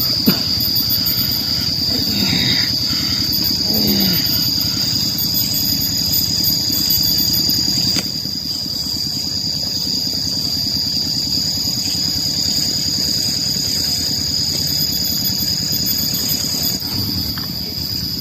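A rice field tractor engine runs somewhere below, a steady mechanical drone with a high whine and rumble that stays continuous and fairly distant throughout, with no talk over it.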